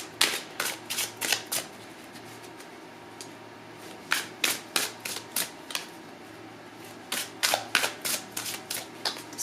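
Tarot cards being shuffled in bursts of quick, crisp riffling flicks, three separate runs with short pauses between them, close and clear with no talking.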